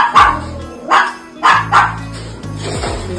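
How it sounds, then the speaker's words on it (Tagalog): Young American breed puppies at a pet market yap in several sharp, loud barks spaced irregularly, close by, with a faint whimper at the end. "Kuya Odeng, update tayo ngayon sa mga bago natin dogs."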